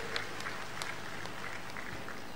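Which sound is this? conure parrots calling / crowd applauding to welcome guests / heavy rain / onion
crowd applauding to welcome guests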